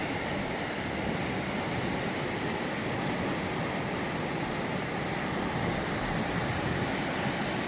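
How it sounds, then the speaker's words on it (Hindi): A swollen mountain river rushes along a road at Tandi in Ladakh, a loud, continuous broadband roar of flowing water with no pauses and no voices. "रात के समय यहाँ पे फ्लो काफ़ी ज़्यादा बढ़ गया था पानी का।"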